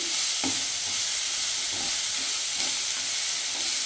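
Beetroot palya with turmeric powder is stirred in a pan, a spoon scraping in soft rhythmic strokes over a constant hissing fry; no talking.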